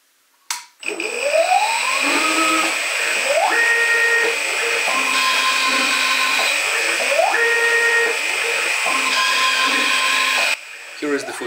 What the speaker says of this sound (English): Footage of the automated thread cutting with the second axis.